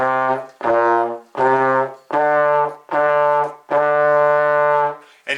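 A trombone plays Mary Had a Little Lamb as a slow series of sustained, separate notes with short gaps between them, loud and close with no talking.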